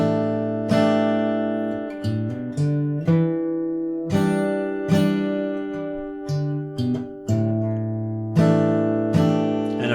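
A plucked guitar plays single notes on the 5th and 4th strings one after another in a steady, repeating pattern, each note ringing clearly and close before the next.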